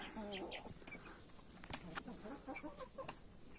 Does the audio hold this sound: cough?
no